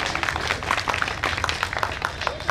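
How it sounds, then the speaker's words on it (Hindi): Applause from an audience at a Kanpur community gathering marking Constitution Day, welcoming someone speaker to the stage; dense, steady clapping fills the whole stretch at moderate loudness, with no voices over it. "आप सभी लोग उनका जोरदार तालियों से स्वागत करें"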